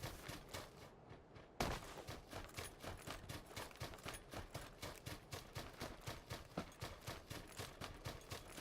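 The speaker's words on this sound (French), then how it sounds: "j'ai l'impression de prendre des tirs depuis la carrière" Gunfire from a quarry in PUBG on the Sanhok map, a rapid run of evenly spaced shots after a brief lull, moderately faint and distant-sounding.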